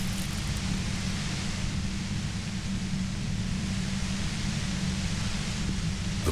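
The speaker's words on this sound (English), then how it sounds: "The violent white noise becomes even more overwhelming closer to the compressor." Violent, overwhelming white noise from a compressor in the video game Disco Elysium fills the scene as a dense, steady roar with a heavy low hum underneath, loud and unbroken throughout.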